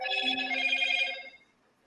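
A mobile phone rings indoors with a bright, repeating electronic ringtone close by, lasting just over a second before cutting off, with no talking over it.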